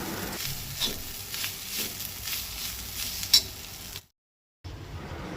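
Grated coconut roasting until crisp with turmeric powder in a pan, a steady soft sizzle with occasional stirring scrapes, close up and with no voices, dropping to a brief silence near the end before resuming.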